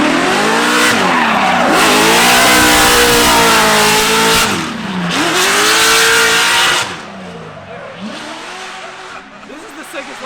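Drifting C6 Corvette on a track, its V8 revving hard in rising and falling sweeps with throttle blips, loud and close, tires squealing over the engine before the roar drops away near the end.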